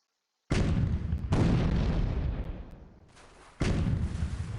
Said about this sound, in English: We had 4 towers firing at us.